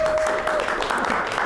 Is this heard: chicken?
no